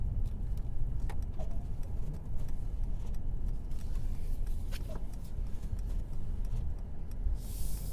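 A 2018 Mercedes-Benz E300 4MATIC drives through snow, a steady low road rumble and tire noise from inside the cabin with small clicks and rattles throughout.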